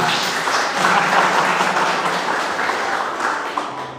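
A church congregation gives a warm round of applause during a worship service. Continuous, full clapping swells briefly and then tapers slightly toward the end, heard alone without talk.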